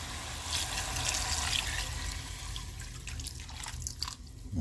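Water poured into a cooking pot for prawn sinigang, a continuous splashing trickle with bright watery spatter that thins and breaks up toward the end, close and fairly loud, no talk.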